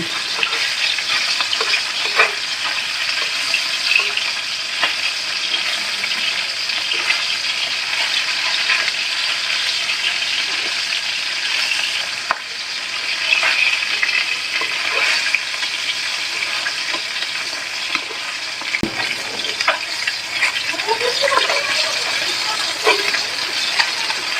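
Taki fish fry in a pan with a continuous loud hiss and sizzle, steady throughout with small crackles and pops, no talk.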